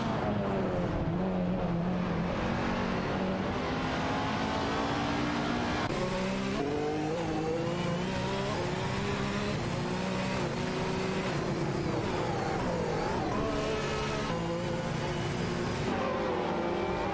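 A race car accelerates hard on a racetrack during an AI racing event, its engine note climbing through repeated gear shifts and staying loud and close throughout, with no talking.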